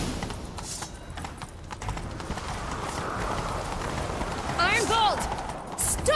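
Rapid hoofbeats of a horse galloping in The Witcher 3: Wild Hunt, with a whinny near the end and a steady rumble beneath.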